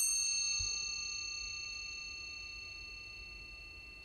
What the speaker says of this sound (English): before you start every meditation, you hear the bell